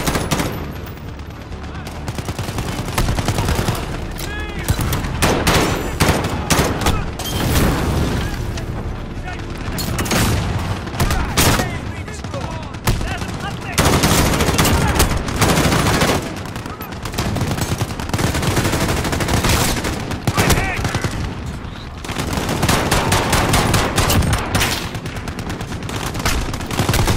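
Heavy automatic gunfire and booming blasts from a Call of Duty: Modern Warfare combat mission, loud and nearly continuous in dense bursts throughout, with shouted voices mixed into the battle.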